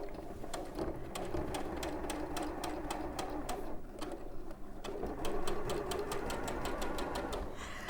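A sewing machine stitches fabric in steady, fast repeated bursts with short pauses between runs, loud and close, as quilt-block piecing goes on.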